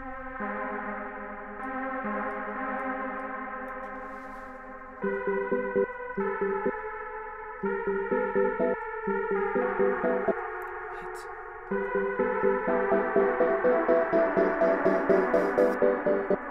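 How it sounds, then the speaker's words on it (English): Reverb taken from a Serum synth patch and applied to another sound in an Ableton Live session for a dark, atmospheric beat: sustained chordal synth tones with a lush, echoing tail, swelling louder in stepped sections, no voices. "I'm just gonna drag this reverb that I had on the Serum sound, and I'm going to put it on this sound right here"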